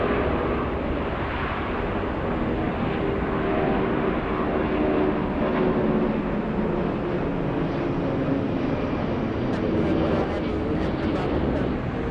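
A Boeing 787 Dreamliner jet rolls on the runway at Atlanta airport, giving a broad, steady roar that swells slightly at a distance, with faint voices over it.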